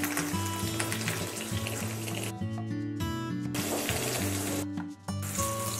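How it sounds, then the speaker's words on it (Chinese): Beaten egg with black sesame and salt is poured into hot oil in a wok and sizzles and crackles steadily, with background music playing over the frying. "将打好的蛋液倒入热油中"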